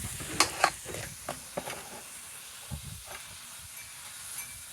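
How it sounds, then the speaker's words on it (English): Broccoli and mushrooms simmer in a pan for a shrimp stir fry, a soft steady hiss broken by a few sharp clinks and pops early on, with quieter scraping taps later. "Now we're just going to let that simmer"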